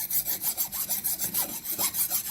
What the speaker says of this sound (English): This is a pretty fine file.